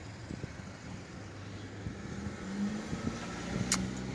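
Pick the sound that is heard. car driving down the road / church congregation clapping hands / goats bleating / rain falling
car driving down the road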